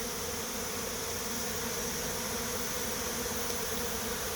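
A honey bee swarm in September hums in a dense, steady drone that holds evenly throughout, close and continuous with no voices.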